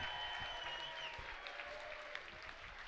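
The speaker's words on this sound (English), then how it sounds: "how about a round of applause for one hell of a championship fight?" Audience at a kickboxing championship fight applauding, a sustained wash of clapping that fades slightly toward the end, heard from a distance in a large venue.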